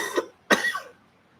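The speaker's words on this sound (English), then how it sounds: "coughing badly" A man coughs hard twice, close to the mic: a short first cough, then a louder, harsher one trailing into throat-clearing, with silence around them.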